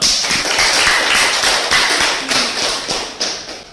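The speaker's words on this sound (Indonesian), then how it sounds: "Tepuk tangan dulu dong" Applause in a classroom lesson, a small group clapping in uneven bursts of sharp, close claps that rise and fade several times.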